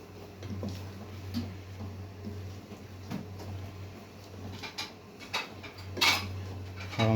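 Utensils clink and scrape against a pot and dish while chicken and chickpea curry with kasuri methi is served out, irregular metallic taps over a low steady hum.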